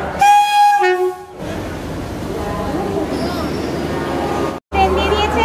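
The Vande Bharat Express (22309, Howrah to Bhagalpur) arriving at a station, opening with loud horn blasts, then a steady rumble of the train rolling in with station ambience.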